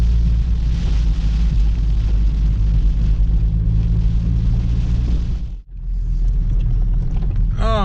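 Heavy rain drumming on a car from inside, heard as a loud continuous rumbling roar with a low hum under it, cutting out briefly near the end before resuming.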